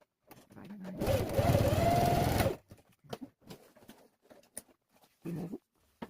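A sewing machine stitching the seams of a fabric pencil case runs in one steady whirring burst of about a second and a half. Quiet handling noises and brief rustles follow, with a short second burst near the end.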